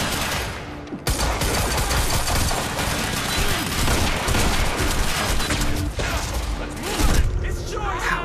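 Dense, sustained gunfire rattles almost without pause as bullets strike the player character in the video game Quantum Break, loud and close, with a brief lull near the start and a sharper burst toward the end.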